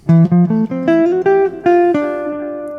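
A minor 7 lick played note by note on a melodic instrument, about a dozen clear pitched notes rising in steps and then settling on a final sustained tone that rings out and fades, with no talking.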